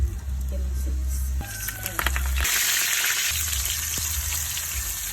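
Cumin seeds frying in hot corn oil in a pan for an Indian dish, giving a steady close sizzle and crackle with brief louder bursts partway through, under low background sounds.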